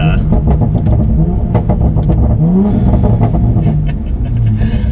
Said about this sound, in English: we'll do an acceleration and see if the car feels a little bit more stable, getting up to higher speeds now